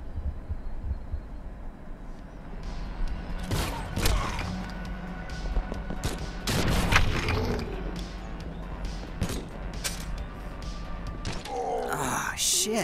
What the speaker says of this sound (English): These friggin' shots are doing my head in.